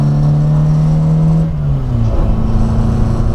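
The 1071cc engine of a 1964 Morris Mini Cooper S revs steadily while driving, its pitch dropping as the gear changes and then climbing again, loud and close with no talking.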